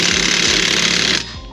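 A power tool runs steadily at close range while car parts are tightened back into place, a loud continuous rattling drone that cuts off sharply near the end, leaving a quieter tail.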